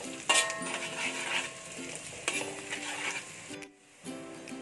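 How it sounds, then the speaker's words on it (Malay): Diced shallots and salt sauté in a pan with light sizzling and scraping stir strokes, close and fairly quiet, pausing briefly before the stirring resumes. "Masukkan sedikit garam supaya bawang merah masak lembut dan tumis selama 1 minit"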